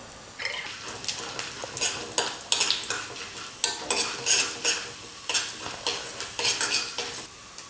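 Mustard seeds, cumin, urad dal and chana dal crackle and sizzle in hot oil in a pan for Tamil-style mango rice, with close, uneven bursts of popping and a spoon stirring against the pan.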